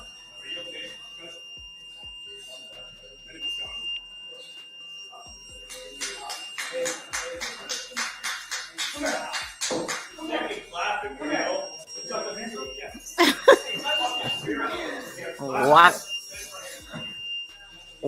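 A rapid ringing bell, like an alarm, sounds in repeated bursts over steady background noise, with people talking and moving around it.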